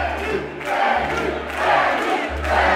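A hip hop concert crowd chants the rapper's name in loud rhythmic group shouts, with a heavy bass beat pulsing underneath.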